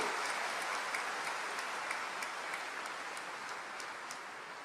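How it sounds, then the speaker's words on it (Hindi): At a book festival inauguration, an audience gives a guest a steady round of applause that sounds distant and fairly faint and tapers off slightly toward the end. "एक जोरदार ताली महाराज जी के लिए, जोरदार, गड़गड़ा के"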